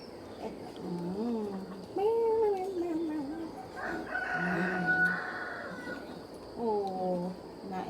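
Rooster crowing several times with chickens clucking around it, a loud crow near the middle and another near the end, animal calls close and clear with no speech.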